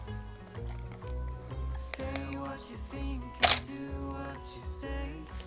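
One sharp camera shutter click lands midway, set to ISO 100, over a low musical backdrop with no other clear sounds.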